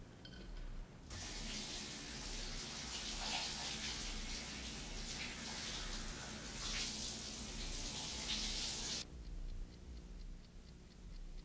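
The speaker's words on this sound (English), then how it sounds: "Do I hear the water running? I think she's taking a shower." A shower runs steadily for about eight seconds, a broad hiss of spraying water heard indoors at a moderate distance, starting and stopping abruptly.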